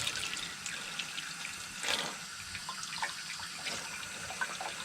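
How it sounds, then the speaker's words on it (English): Water splashes and trickles steadily over a metal garden shovel at an outdoor allotment in Tokyo, a soft continuous wash with small drips and a brief louder splash near the middle, heard close with no talking. "from the soothing sounds of the water on the shovel"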